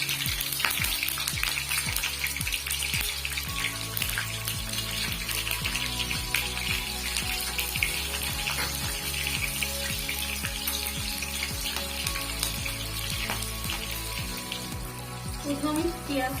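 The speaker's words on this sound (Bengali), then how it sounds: "তেলটা আমার গরম হয়ে গিয়েছে, এবার আমি একে একে সব ফোড়নটা দিয়ে দেবো" Whole spices crackle and sizzle in hot oil for a Bengali mustard Tangra fish curry, a steady hiss running under rhythmic background music.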